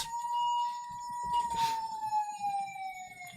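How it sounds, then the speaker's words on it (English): A single faint, distant siren in a video game holds a long steady tone that slowly drifts lower, with a brief hiss in the middle and quiet background rumble. "I could hear the sound of distant sirens."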